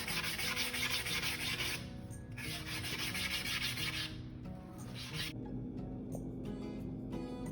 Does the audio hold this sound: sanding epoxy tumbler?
yes